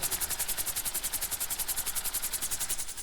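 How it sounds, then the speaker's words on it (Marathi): A helicopter flies slowly in the video game GTA V, giving a rapid, even rotor thump over a hissing, noisy wash that stays steady and close with no talking. "मी काय करतो एकदम हळू हेलिकॉप्टर माझं पुढे घेतोय"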